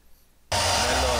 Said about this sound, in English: It's the hair dryer.